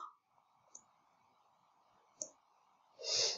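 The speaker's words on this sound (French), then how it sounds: "je clique sur la perspective, d'accord? Et donc, je clique à l'intérieur" Two faint, sharp computer mouse clicks sound over a quiet low hum, followed by a louder, broader burst of noise near the end.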